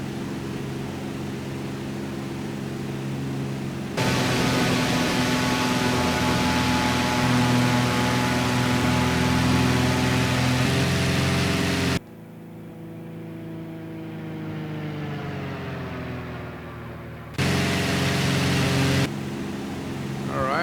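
Propeller engine of a simulated Lancair Legacy RG aircraft in X-Plane 11 on its return to land: a continuous loud drone whose level and tone shift abruptly several times, with no voices.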